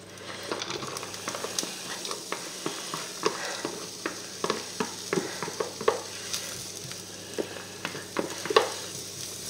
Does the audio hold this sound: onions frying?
yes